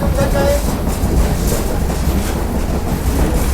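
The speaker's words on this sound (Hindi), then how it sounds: "लेकिन ट्रेन का सफ़र हमेशा से खलफान बहुत ज़्यादा एंजॉय करता है।" Kohat Express train running on rails, a steady loud rumble of wheels and carriage noise filling the whole stretch, with a brief faint squeal early on.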